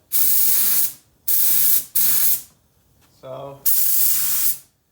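Cheap Harbor Freight paint spray gun spraying clear coat on a 1985 Volkswagen Vanagon Westfalia, four loud, sustained bursts of hissing spray separated by short pauses, with a brief spoken word between bursts.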